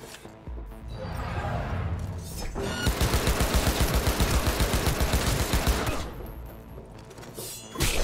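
Sustained automatic gunfire in Cyberpunk 2077, a loud, dense rattle of shots lasting several seconds before fading into quieter game sounds.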